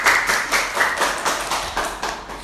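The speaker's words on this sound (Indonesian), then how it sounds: "Minta tepuk tangannya dong buat Kak Haikal" A small group claps steadily, a close, loud patter of hands with slight rhythmic pulses and no talking.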